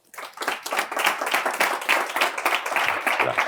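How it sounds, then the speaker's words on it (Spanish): At the opening session of a course on insolvency law, an audience breaks into applause, with clapping starting abruptly and continuing as a full, even round for over three seconds. "les presento a la directora del curso, Inmaculada Herbosa, a quien ruego un fuerte aplauso, por favor."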